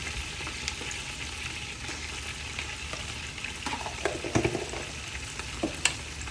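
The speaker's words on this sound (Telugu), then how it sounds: "అల్లం పచ్చివాసన పోయేంత వరకు రోస్ట్ చేసుకోండి" Ginger garlic paste roasts in hot oil for Thalapakatti-style mutton biryani, giving a soft, steady sizzle. A few louder stirring scrapes and clinks come near the end.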